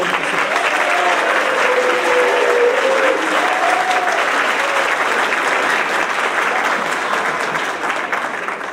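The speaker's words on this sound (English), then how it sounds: "Another round of applause for our honor roll award recipients." A middle school awards ceremony audience applauds honor roll award recipients, giving a sustained, dense, loud round of clapping from a crowd that holds steady for several seconds before easing slightly at the end, with no talk over it.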